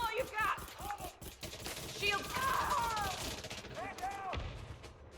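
Pistol gunfire in the shooter game Elite Dangerous Odyssey: a rapid string of snappy shots mixed with whooshing energy sweeps and impacts, fairly faint, with a voice talking over them.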